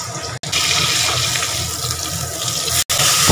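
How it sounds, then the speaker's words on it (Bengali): Water splashes steadily into a spice bowl in a home kitchen while a Bengali fish curry with potatoes is being made, a continuous close pour lasting a few seconds with two brief breaks. "আর একটু জল দিয়ে দিলাম মশলার বাটিতে করে"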